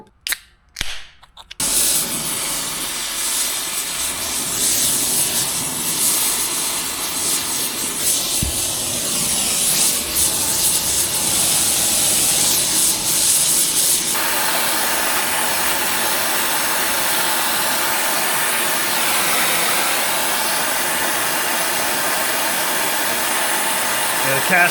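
A gas torch heats a cast piece of an old Asplundh wood chipper for soldering. After a few sharp pops as it lights, a loud steady roaring hiss runs close by, changing tone partway through.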